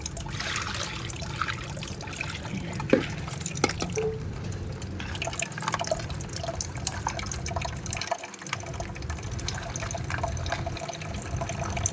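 Water trickles and drips steadily into a container holding fresh flowers, a continuous low splashing fill heard close by with no talk over it.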